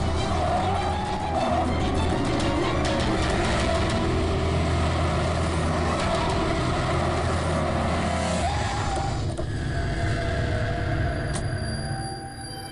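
A car engine runs loud and steady while chasing and overtaking a taxi on a road, a sustained close drone with passing traffic noise that eases off near the end.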